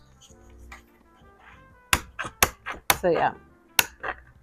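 Sharp snips of garden shears cutting through monstera albo stems during propagation, several crisp clipping strikes close by, with someone speaking briefly before them.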